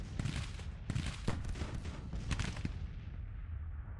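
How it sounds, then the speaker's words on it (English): A thick artillery barrage from a Civil War battle game rolls on continuously, dense overlapping booms and cracks of cannon and musket fire with sharper blasts scattered through, fading slightly toward the end. "Just a thick, nasty barrage, man."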